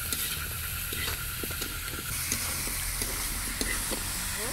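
Potatoes frying in a pan with mutton skin and prawns, a soft continuous sizzle and hiss with faint clinks of stirring, low in level, with no talk.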